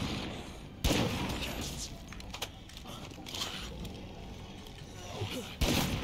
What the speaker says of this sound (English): I'm just shooting with this 22 there because I want Homeless Dave to shoot with that 50 cal.